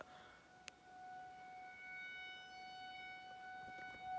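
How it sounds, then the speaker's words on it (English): Civil defense sirens wail in the distance during a Wednesday test, several steady tones overlapping and slowly rising and falling, faint against quiet surroundings. "Why are the sirens going off?"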